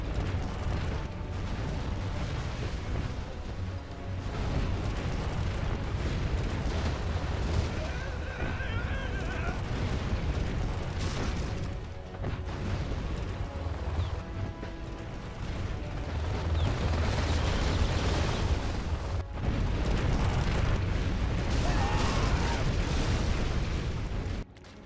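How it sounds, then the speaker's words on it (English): Inferno cannon shells in Command & Conquer Generals Zero Hour pound a target area in a dense, continuous barrage of booms and crackling bursts, loud throughout with battle noise layered beneath. "Inferno cannon's killing the markets."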